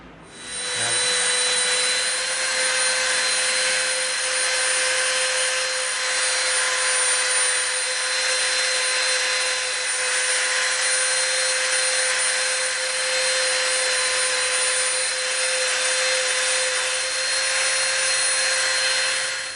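A Dremel rotary tool rounds off the edges of EVA foam pieces with a steady, high-pitched whine that runs continuously and closely for nearly twenty seconds.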